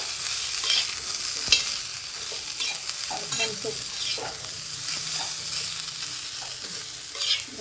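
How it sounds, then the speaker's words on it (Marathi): Cauliflower florets roast in oil in a pan, a continuous bright sizzle broken by occasional stirring scrapes and small knocks of a spoon, close and moderately loud. "भाजून घेणार आहे मी गोबीला"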